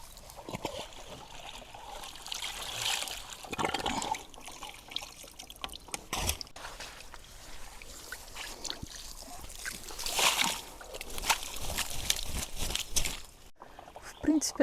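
Water spilling over the rim of a small garden pond as a pump refills it, a steady close trickle and splashing running throughout with occasional louder sloshes.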